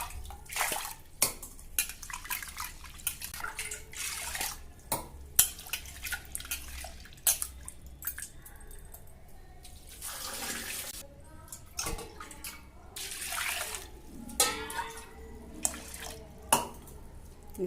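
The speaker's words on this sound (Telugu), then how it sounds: "కందిపప్పు శుభ్రంగా 2 సార్లు కడుక్కోవాలి" Toor dal rinsed by hand in water in a kitchen vessel, with intermittent sloshing, splashing and clinking of the pot, sounding close and moderately loud, with no talking.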